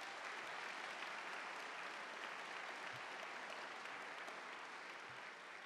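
Faint, distant audience applause at a fall university convocation, a steady even wash of clapping lasting several seconds without voices.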